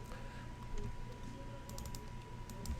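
Magic: The Gathering players shuffling card decks at a Modern tournament, a faint, steady riffling and clicking patter over low room hum, with brief sharper bursts near the end.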